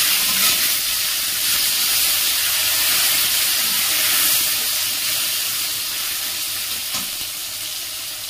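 Long-sliced tomatoes sizzle in hot oil over a tempering of spices while cooking a Bengali katla fish curry, giving a steady bright frying hiss that carries on alone and fades slightly toward the end.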